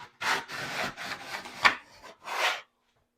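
Notched trowel spreading tile adhesive on a subway tile backsplash, several close scraping, rasping strokes in quick succession with brief gaps between them, ending in silence.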